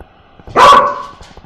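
A pet dog gives a single loud, close bark with a brief tonal whine trailing after it, otherwise quiet indoor room.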